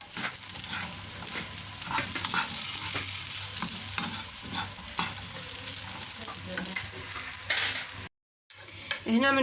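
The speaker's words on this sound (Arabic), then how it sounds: "غتسلق غير شويه وغنطفي عليها وغنسوطيها مع شويه ديال زيت العود" Potatoes sautéing in a little olive oil for a savory quiche filling, a constant close sizzle broken by utensil scrapes and stirring taps, cutting out briefly near the end.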